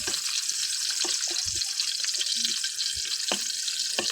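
Water boiling in a cooking pot, a constant bubbling hiss with scattered soft pops and a few faint clinks.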